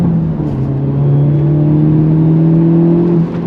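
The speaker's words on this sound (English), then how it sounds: "On throttle, here we go." A 2023 Hyundai Elantra N accelerates hard on throttle, its engine note rising in a loud, steady drone that climbs gradually in pitch for several seconds before easing off.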